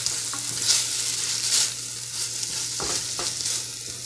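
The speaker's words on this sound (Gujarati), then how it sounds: "મિક્સ કરી દેવાનું બરાબર." Extra-spicy Schezwan noodles being stirred and fried in a pan: a loud, steady sizzle close up, with scraping strokes and a few light clanks of the utensil, no voices.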